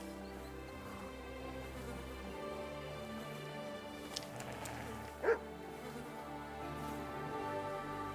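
A dog in the medieval video game Kingdom Come Deliverance 2 gives one short, sharp bark midway, standing out briefly over a steady, low ambient game background.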